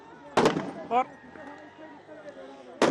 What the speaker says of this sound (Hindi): जिस तरीके से लगातार धमाके हो रहे हैं